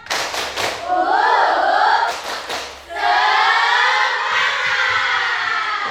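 A classroom group performs the 'tepuk semangat' clapping chant: bursts of sharp, rhythmic hand claps mixed with chanting voices, close and fairly loud.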